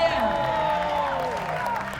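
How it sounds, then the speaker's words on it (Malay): An audience applauding and cheering at a televised youth competition event, loud and sustained over music with tonal sweeps. "Berikan tepukan kepada Kementerian Belia dan Sukan"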